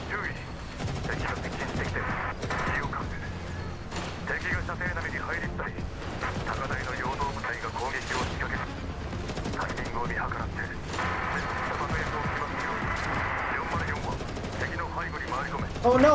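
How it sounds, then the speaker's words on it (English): Rapid bursts of automatic gunfire in a video game battle, dense and sustained over mechanical clatter, with a voice talking over the shooting throughout. "an ear-splitting alarm goes off in the northeast, followed by a vicious burst of gunfire"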